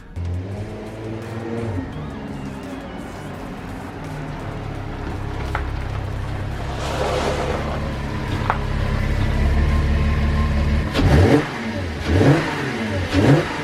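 A Porsche Cayman with a 3.2 litre V6 drones steadily, its engine note gradually building, then snaps into several sharp, loud revs near the end.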